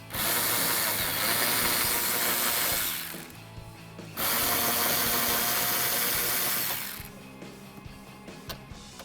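A 1/4 inch ratchet with a 5.5mm socket backs out screws on a 2015-2020 F150 while fitting Weathertech mud flaps, giving two long, loud bursts of rapid close-up clicking separated by a brief pause, with a few scattered clicks at the end.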